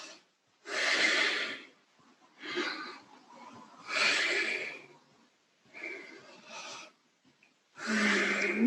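Deep, slow breaths during a hatha yoga class, about five long breathy exhales and inhales close to the microphone, each separated by a quiet pause.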